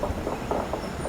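The Jodhpur Bhopal Express passenger train rumbles steadily nearby, a continuous low roll with faint rhythmic wheel noise.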